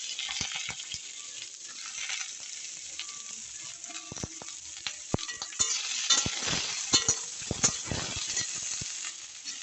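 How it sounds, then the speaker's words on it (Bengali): Carrots and beans frying in a pan for vegetable soup, a steady close sizzle with repeated scraping and stirring strokes that grow busier toward the end, no voices. "গাজর আর শিমটাকে নাড়াচাড়া করে নেব।"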